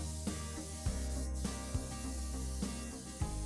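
Gray spray primer hisses out of an aerosol can onto a thrift store nightstand in a steady, continuous spray with a few short breaks and bumps, close and fairly loud.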